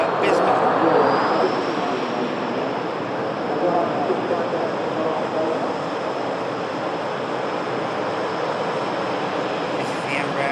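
Ryanair airliner arriving from Barcelona, touching down with a steady broadband jet roar that holds loud and even throughout, a faint rising whine above it and a voice talking over it.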